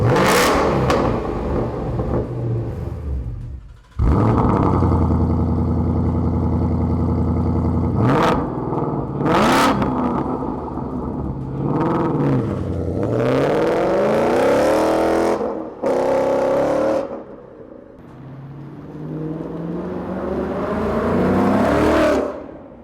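A 2018 Mustang GT V8 with a Corsa cat-back sport exhaust and quad tips revs hard several times, deep rumbling idle between throaty bursts that rise and fall, close up.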